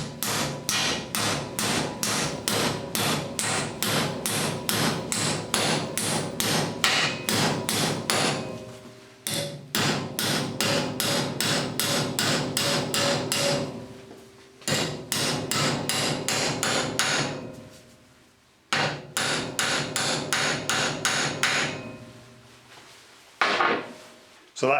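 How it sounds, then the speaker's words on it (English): A hammer strikes a bent metal shelf bracket in rapid, evenly spaced blows, loud and close, in several long runs broken by brief pauses. "we need to bend this back and give it a tap with the hammer"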